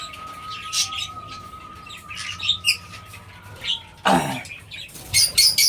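Lovebirds in a bird colony chirp in short, bright bursts near and far, with a sharper flurry of calls and movement toward the end.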